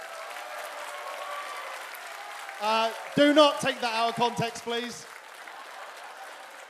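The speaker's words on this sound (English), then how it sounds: "Big round of applause for slavery" Audience applause at a cosplay contest at Summer of Sonic 2016 breaks out as a burst of clapping and cheers. A voice speaks over the start, then the clapping swells loudly for about two seconds and fades.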